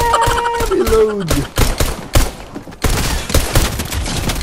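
Rapid gunfire bursts crackle in a Fortnite match, dense repeated shots with a few brief gaps, loud throughout, while a voice shouts excitedly near the start.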